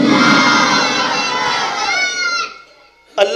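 A large conference crowd roars in unison in answer to a religious takbir call, a loud, dense burst of many voices that swells, trails off and fades, followed by a brief fresh shout near the end.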